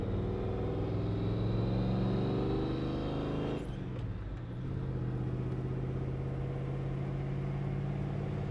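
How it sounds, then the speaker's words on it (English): A 1987 Chevrolet R20 Suburban Silverado with a big block Chevy V8 cruising on the road: a steady, deep engine drone heard from inside the cabin, with a brief dip partway through before the even hum resumes. "Nothing like a big block Chevy motor. It's got a great sound to it as well."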